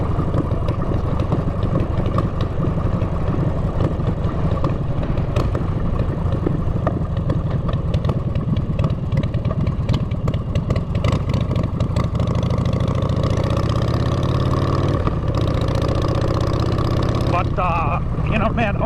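A chopper motorcycle engine runs at idle with a steady, close, throbbing rumble that continues unbroken, accompanied by outdoor noise and someone talking over it.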